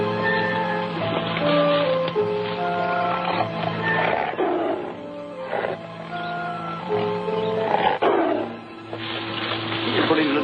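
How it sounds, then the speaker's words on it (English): Big tiger roars rise in repeated bursts over a busy 1943 film soundtrack with sustained tonal music, loud and close throughout. "Big tiger."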